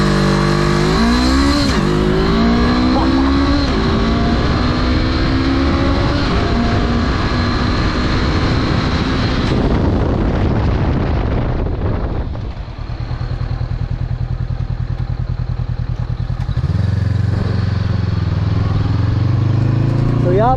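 A 2021 Honda CB500X motorcycle accelerates hard in a 0 to 100 run, the engine note climbing through several gear changes, loud and continuous with rushing wind, easing off near the end before revving again.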